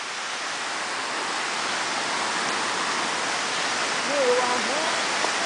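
Steady broadband rush of a waterfall in the Atlantic Forest fills the whole stretch at an even level, with a brief whistling or bird-like tone rising near the end.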